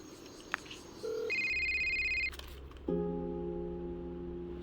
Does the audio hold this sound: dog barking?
no